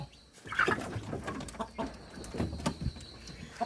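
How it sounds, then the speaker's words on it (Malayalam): Chickens cluck and chatter in short bursts, fairly close, with scattered scratching and shuffling noises around them. "അങ്ങനെ നമ്മുടെ കോഴികളൊക്കെ നല്ല ഉഷാറായിട്ടിരിക്കുന്നു"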